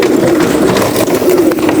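Racing pigeon hens cooing in a dense, continuous low murmur from a full loft, loud and close, with faint clatter and movement mixed in.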